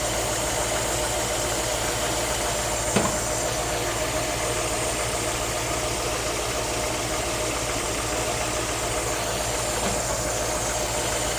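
Car engine idling in a driveway after an ignition timing adjustment to 22 degrees, a steady mechanical hum with faint ticking and one brief knock, heard at moderate distance without speech.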